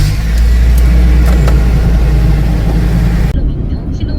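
A 1-ton LPG truck engine starting and settling into a smooth, quiet idle, heard as a loud steady low rumble close by that cuts off sharply near the end.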